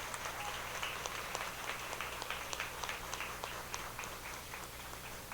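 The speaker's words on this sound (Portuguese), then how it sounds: "Eu pedi uma salva de palmas para eles," An audience claps at a Brazilian mamulengo puppet theatre gathering, the applause faint and distant over a steady hum of room noise.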